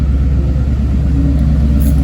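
A Mustang's engine holds a steady, loud low rumble close by, idling evenly without revving.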